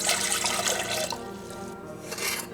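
Warm water pouring into a mixing bowl for garlic breadsticks, a continuous close splashing and trickling stream with a brief lull near the end.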